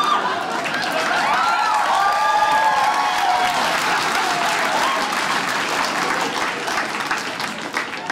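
Audience at a Dry Bar comedy show breaks into loud, sustained applause with scattered cheers and chuckles, the clapping holding strong and then tapering slightly at the end.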